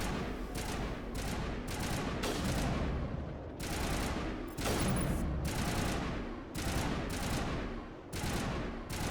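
Sustained bursts of automatic gunfire from the video game Mass Effect Legendary Edition, loud and continuous with rapid overlapping shots and brief pauses between volleys.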